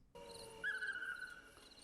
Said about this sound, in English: For instance, this one with the crickets,